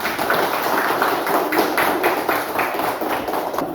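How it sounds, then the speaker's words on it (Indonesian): Group applause from students in a classroom, a rapid uneven burst of hand clapping, fairly loud and close, continuing for a few seconds without speech. "Untuk kelompok tepuk tangan untuk kita semua"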